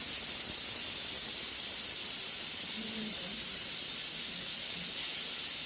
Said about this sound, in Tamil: இப்போது குக்கரில் 2 விசில் கேட்கட்டும்.